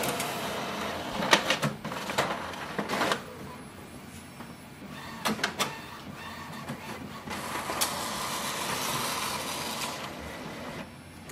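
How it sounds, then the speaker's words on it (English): Epson WF-7310 inkjet printer running a nozzle check print, close mechanical whirring with several sharp feed clicks and rattles, then a longer steady motor run. "We can see the print head has started to work and the nozzle is also clean"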